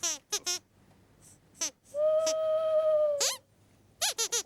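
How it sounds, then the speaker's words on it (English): A single long, wavering owl hoot sounds clearly in a quiet setting, framed by bursts of quick, high squeaky chirps before and after. "That's just an owl, Sweep."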